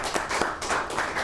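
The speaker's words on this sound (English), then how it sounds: "Let's give her another round of applause." A Chamber of Commerce audience claps for a speaker at an executive talk, a short burst of scattered hand claps at moderate volume with no voices.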